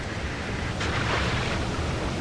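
Steady rushing water from the dark puzzle platformer Limbo, a continuous broad wash like surf or a strong current, loud and unbroken with a slight swell midway, no voices.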